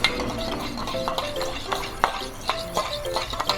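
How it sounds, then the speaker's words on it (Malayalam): Egg appam batter stirred with a spoon in a pan of coconut oil, giving a run of close metallic scrapes and clinks over a faint sizzle, with no talking. "നമുക്കിത് വേവനേക്കാൻ വെച്ചിട്ട് നന്നായിട്ടൊന്ന് ഇളക്കാം"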